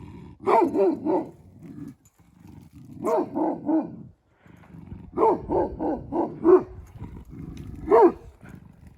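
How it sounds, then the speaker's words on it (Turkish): A dog growls and snarls while eating, in short rough bursts, grouped in clusters with brief pauses, close and fairly loud. "Abi hırstan yiyor köpek ya resmen."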